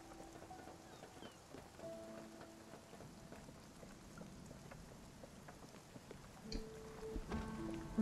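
Storm rain in Spiritfarer comes as a faint, steady hiss of rainfall with soft scattered drops, under quiet game music and a low rumble near the end.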